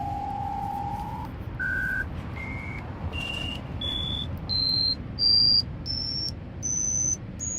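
A panic alarm tone sweeps upward in a series of steady, stepped pitches, each step higher and shriller than the last, sounding over a constant background rumble with no voices.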